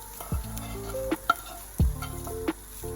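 Ground meat and browned onions stirred together in a large pot, with a soft sizzle underneath and several scraping clinks of the spoon against the pan.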